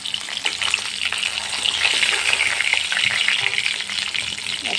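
Potatoes fry in a pan with a dense, steady hiss and sizzle that runs loud and continuous throughout, peppered with small crackles and no voices.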